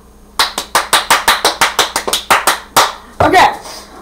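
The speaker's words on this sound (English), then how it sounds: "Clap." Hands clap during a kitchen appliance quiz game, about fourteen sharp, evenly spaced claps in a quick steady rhythm, close and loud, ending with a short burst of mixed clapping.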